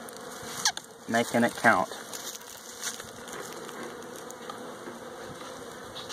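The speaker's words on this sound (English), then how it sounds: "Now look at all those bees down in there." A low, continuous buzz of many bees in an open old hive box in December fills the background, with a few brief louder bursts and a short spoken phrase near the start.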